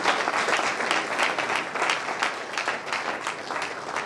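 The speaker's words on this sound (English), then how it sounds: "Round of applause for Josh Joey once again." A live audience breaks into steady applause, a dense even wash of clapping that holds at moderate level for about four seconds.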